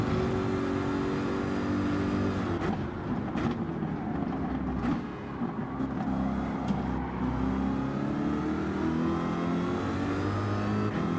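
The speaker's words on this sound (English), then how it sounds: "We are short-shifting in the Corvette." A Corvette engine in Gran Turismo 7 is short-shifted during an online race, roaring loud and continuous as it climbs and drops through the gears, with a brief dip mid-run and no talk.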